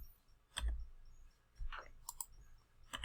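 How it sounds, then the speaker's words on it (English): A computer mouse button clicks several times in a quiet room, with faint, sharp, irregularly spaced clicks and soft thumps. "Help if I don't click my mouse button."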